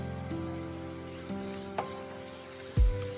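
Green chillies go into a pan already holding bitter gourd, onion and garlic, giving a faint, steady sizzle beneath soft tonal background music, with a brief louder knock near the end.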